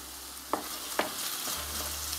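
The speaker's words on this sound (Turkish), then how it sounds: "Domateslerim eriyinceye kadar pişiriyorum." Tomatoes cook in a covered pot, giving a soft steady simmering hiss with a couple of sharp clinks early on, fairly close and continuous, no talking.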